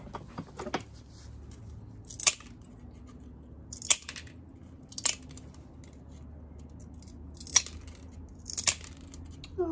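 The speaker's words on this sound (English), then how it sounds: "Now I'm going to cut that corner and that corner" Tile nippers snapping corners off ceramic tile: about six sharp, isolated crunching cracks spaced a second or so apart, close and distinct against a quiet background.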